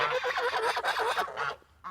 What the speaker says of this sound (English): she is my adult Toulouse goose